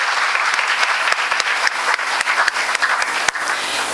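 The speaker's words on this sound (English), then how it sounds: "Please give him a big round of applause." A college orientation audience applauds a student prize winner: dense, continuous clapping from many hands with sharp individual claps standing out, sustained for the full few seconds.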